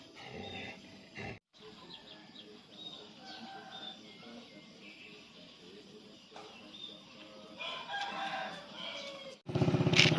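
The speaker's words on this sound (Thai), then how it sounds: "เสียงไก่ขันยามเช้านะคะ" Roosters crow off in the distance amid faint outdoor morning noise in Thailand, with a louder burst near the end.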